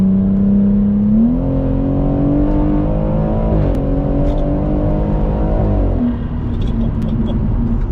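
A 600 bhp BMW M140i accelerates hard, heard from inside the cabin as a loud, droning engine note that climbs steadily in pitch, drops briefly at a gear change, then rises again.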